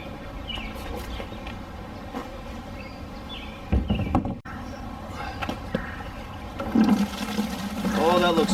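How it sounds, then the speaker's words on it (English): Old gasoline drains from a Nissan Skyline GTR R32 fuel tank into a 5-gallon bucket, giving a steady, faint trickling and pouring with a few louder splashy bursts and occasional faint voices. "I should be able to just drain the gas directly out of this here and into that 5-gallon bucket"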